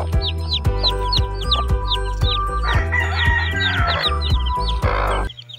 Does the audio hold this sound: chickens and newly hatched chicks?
yes